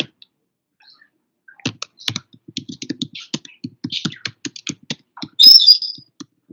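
Typing on a computer keyboard, a run of quick close key clicks in uneven bursts that starts sparse and grows busier, with a brief high chirping sound near the end.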